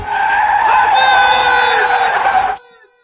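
A car's tires skid with a loud, sustained screech during a hit-and-run as it runs a person over, the squeal holding steady for about two and a half seconds before cutting off abruptly into near silence.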